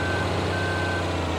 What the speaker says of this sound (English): Let's just keep reversing.